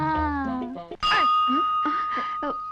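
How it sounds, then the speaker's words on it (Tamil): A bright temple bell rings with a long, sustained tone that lingers under people talking. "சிவ சிவா, யார் கோயில் மணி அடிச்சது?"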